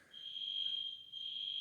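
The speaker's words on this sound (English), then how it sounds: "there's an alarm in the background" A steady, high electronic alarm tone sounds continuously in the background of a quiet indoor room, faint and unbroken apart from a brief dip.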